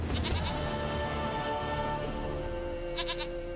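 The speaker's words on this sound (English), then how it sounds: "I found your goat." A goat in the video game The Witcher 3: Wild Hunt gives a long, wavering bleat, close and clear, with no talking.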